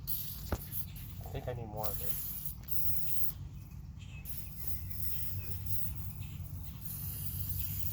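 Aerosol spray hisses onto a rusty car door during a backyard door and fender repair, a steady, close, broadband hiss lasting several seconds, with a brief spoken remark early on.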